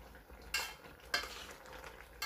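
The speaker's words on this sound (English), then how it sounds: "Okay, it's boiling now." A pot of mung bean stew (ginisang mongo) with eggplant, mushroom and tomato boils with a soft, steady bubbling hiss, broken by a few louder bursts of stirring.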